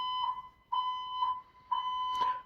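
A building fire alarm sounds in loud, repeating electronic pulses, each about a second long, with a steady tonal beep and short gaps between them.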